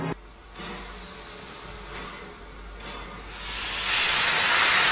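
A steam train on the Isle of Wight lets off a broad hiss of steam that swells steadily louder toward the end, with faint rumbling beneath and no voices.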